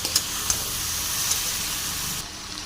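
Chow mein noodles sizzle in a hot pan as they are stirred together with vegetables, a steady close hiss with a few faint clicks that cuts off near the end.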